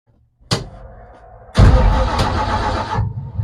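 A footbrake car's freshly rebuilt motor turns over with a sharp crank, pauses, then catches into a loud, rough running roar for over a second before dropping back to a quieter idle.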